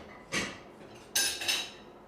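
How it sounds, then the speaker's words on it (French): Saucepans being roughly banged about in the next room, a couple of brief metallic clanks with a short gap between them, somewhat muffled and distant. "Le tintement de casserole qu'on malmène se fait entendre dans la pièce d'à côté."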